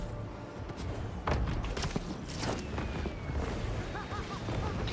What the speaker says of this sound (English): Fireworks! Better warn those guys they're illegal here without a permit before someone calls the cops on them.